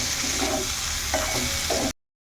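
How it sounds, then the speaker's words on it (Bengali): Leafy greens sautéing in a pan with chopped onion and green chilli, a steady close sizzle with a few stirring scrapes over about two seconds, no voices. "এখন এর মধ্যে দিয়ে দেব পেঁয়াজ কুচি আর কাঁচা লঙ্কা কুচি। তো এটা দিয়ে এখন এটাকে আবার একটু ভালো করে কষিয়ে নেব"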